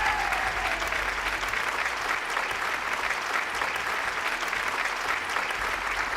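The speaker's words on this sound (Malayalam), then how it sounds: "നീ കൈയടിച്ചേ" Audience on a TV game show applauding, a steady, even wash of many hands clapping that runs unbroken from start to end at moderate loudness.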